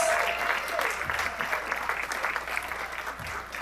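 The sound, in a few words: audience applause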